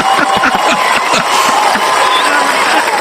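A loud stadium crowd at a Tampa Bay Buccaneers versus Dallas Cowboys wildcard football game roars and cheers steadily throughout, a dense wall of voices with scattered shouts rising out of it.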